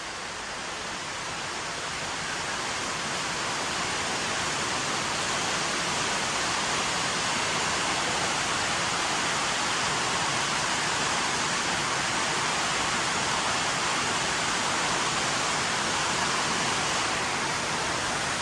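Sudden rain arriving after clear weather, falling over plants and trees as a dense, steady wash of noise that swells over the first couple of seconds and then holds loud and even throughout.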